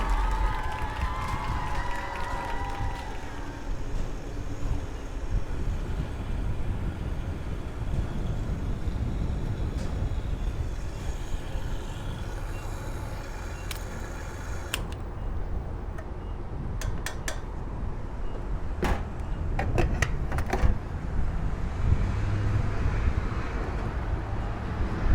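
Outdoor gas station ambience: a steady wash of passing traffic and idling vehicles with a broad rumble throughout, scattered sharp clanks and knocks in the latter half, and a brief tonal whine early on.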